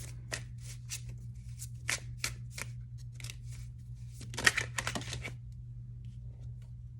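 Tarot cards shuffled and drawn at a reading table, a run of crisp riffling snaps and paper slides in short bursts, close and fairly quiet over a steady low hum, busiest near the end, with no talking.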